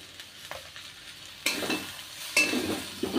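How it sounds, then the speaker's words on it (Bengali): Potato and ridge gourd curry stirred in a pan after sugar is added, quiet background sizzle broken by three louder scraping stirs, close up with no voices. "চিনি দিয়ে নাড়াচাড়া দিয়ে তারপরে নুন দিয়ে নেব।"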